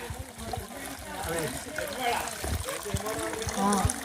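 Water trickles from rock and splashes steadily at a hillside temple near Gingee, while people talk nearby over it.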